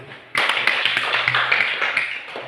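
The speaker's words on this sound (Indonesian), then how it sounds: "tepuk tangan ini dulu" Classroom of young pupils clapping hands together in unison during a primary school lesson, a sudden burst of brisk rhythmic claps starting after a short pause and continuing steadily at close range.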